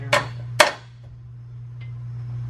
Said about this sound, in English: just take your hammer or your other hammer.